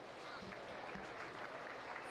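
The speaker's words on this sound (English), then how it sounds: "Give them all a round of applause." Faint, distant applause from the audience at a county fair livestock arena show, a brief patter of scattered clapping heard from afar.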